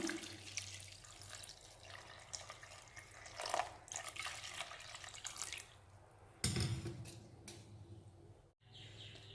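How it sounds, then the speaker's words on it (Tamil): Water pours steadily into a cooking pot for drumstick-leaf soup, a continuous splashing stream with a few louder gushes, close by and with no talking. "நாலு பேர்த்துக்கு ஆறு டம்ளர் தண்ணி ஊற்ற போகிறேன்"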